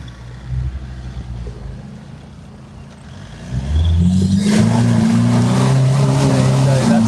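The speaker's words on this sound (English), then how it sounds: "So that sounds like a Can-Am coming down." A Can-Am race car rolls down from the pits at a motorsport event, its low engine drone rising and growing louder partway through, then holding steady and close, with faint background voices.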